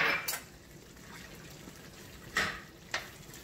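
Chopped peppers and onions tumble into a pot for braised oxtail, giving a few short, close scraping and clattering bursts at irregular intervals against a quiet kitchen background.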